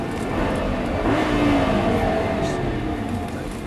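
A Lamborghini Gallardo LP 560 accelerating out of a turn on a driving course, its engine note rising steadily and loud up close, with an instructor talking over it.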